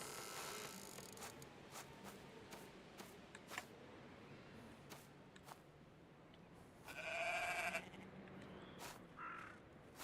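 Goats and sheep bleating on a farm, with several loud calls scattered among quieter ones, and one long, strong bleat near the end over a low background.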